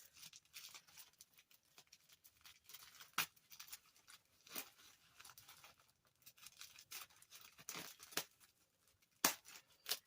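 Old carpet being pulled up along a rolled seam during a renovation, with scattered tearing rips and occasional crisp scissor snips, close and fairly quiet.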